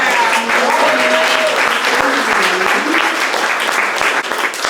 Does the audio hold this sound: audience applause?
yes